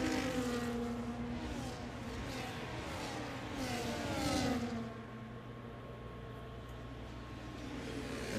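Formula 1 race cars in a racing video game at the Miami Grand Prix whine past in steady overlapping engine drones, rising and falling as they swap positions, heard at a moderate distance with no talk.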